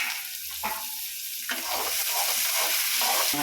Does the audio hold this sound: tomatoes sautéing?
yes